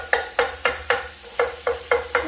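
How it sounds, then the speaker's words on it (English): Sausage being broken up in a pan with a square-headed wooden spoon for sausage gravy, eight sharp scraping chops in a steady rhythm over a faint sizzle, close and without talk. "you want to start chopping it. That's the beauty of the square-headed wooden spoon."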